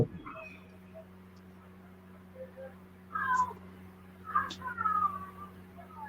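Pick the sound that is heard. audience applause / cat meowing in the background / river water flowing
cat meowing in the background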